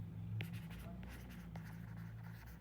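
Pen or chalk writing on a board or paper while working out an RCC circular column design problem, quiet scratching strokes in short bursts over a low hum, with no talk.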